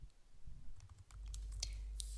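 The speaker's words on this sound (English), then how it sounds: "I'm typing the title into the DiscoverEd search box in MyEd" Keys clicking on a computer keyboard as a search title is entered, with irregular light taps over a low background rumble, close and fairly quiet, no voices.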